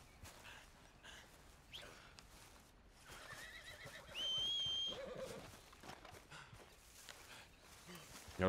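A horse in the video game Red Dead Redemption 2 lets out a single clear, high neigh midway, amid faint footsteps and background ambience.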